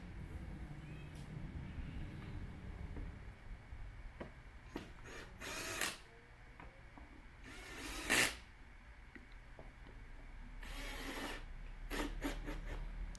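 Screws being fastened on a Volkswagen air filter cover, quiet ratcheting clicks and rubbing from a hand tool, punctuated by a few louder bursts of plastic rattling and handling.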